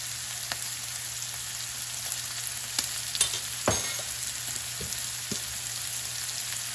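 Hibachi steak sears in a hot pan with a steady, bright sizzle throughout, broken by a few sharp spatters and utensil scrapes, close and fairly loud with no talking.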